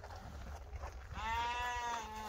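A sheep bleats in a fenced pasture where ewe lambs graze alongside young mastiff pups, giving one drawn-out, wavering cry after a moment of low background rumble.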